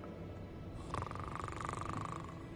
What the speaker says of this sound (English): It's snoring.